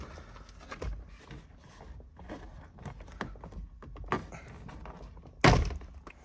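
Plastic dash kick panel on a Subaru FRS pulled free by hand, a sharp thud-like pop near the end after scattered small knocks and clicks, close and fairly loud with no talking.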